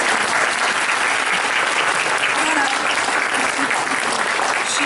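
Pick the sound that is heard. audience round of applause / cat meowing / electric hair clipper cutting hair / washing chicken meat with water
audience round of applause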